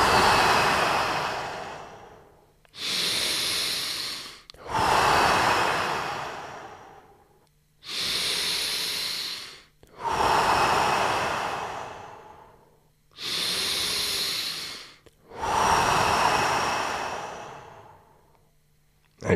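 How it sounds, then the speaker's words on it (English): Deep, slow breathing in a guided breathwork session: seven long, loud breath cycles with strong rushing airflow and short pauses between them, close and alone without talk. "and breathe fully out."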